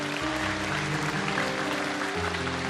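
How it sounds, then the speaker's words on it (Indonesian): An audience at a Qur'an recitation show bursts into steady, dense clapping, with a sustained tonal backing running beneath the applause. "Boleh tepuk tangan, ini boleh tepuk tangan."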